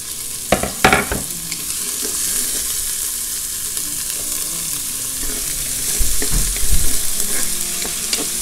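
Onion sautéing in oil in a Cookeo multicooker, a steady close sizzle with stirring and utensil knocks near the start and again toward the end, no voices.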